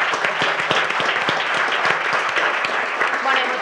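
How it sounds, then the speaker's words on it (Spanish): Applause for three guests at a journalism talk series: a dense, sustained round of clapping from an audience filling the room, steady and full with no pauses, a few voices faintly mixed in. "Un aplauso."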